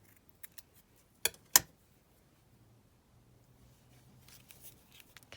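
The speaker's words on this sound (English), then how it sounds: "And just trim this down." Scissors trimming white paper scraps for a craft belly band: a couple of sharp close snips, then faint rustling and small handling clicks in a quiet room.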